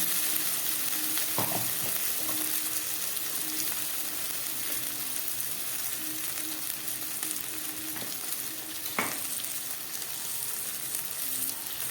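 A ground paste of ginger, garlic, onion and dried red chili fries on a low gas flame in a pan with onion and capsicum, hissing steadily and close by, with a few sharp utensil scrapes.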